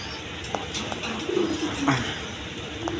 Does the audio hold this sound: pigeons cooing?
yes